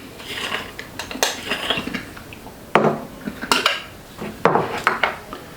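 Metal parts of a small moka pot coffee maker being unscrewed and handled, giving a run of close clinks, scrapes and clatters in irregular bursts with three louder knocks, no talk.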